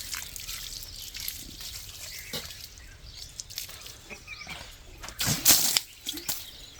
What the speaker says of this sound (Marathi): बघा पाणी एकदम मस्त याच्यावर मारून देतो. पहिले दगड धुवून घेतो